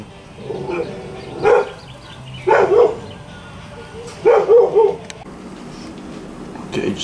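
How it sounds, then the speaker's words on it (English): A dog barks in short bursts of two or three yaps, repeated about four times at moderate distance outdoors beside a smoker, with faint background sounds between. "The dog's barking."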